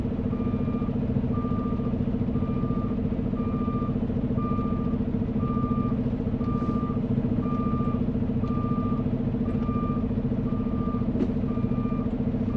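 A truck backs up with its reversing alarm beeping in a steady, regular rhythm, about one beep per second, over the constant low drone of the idling diesel engine close by.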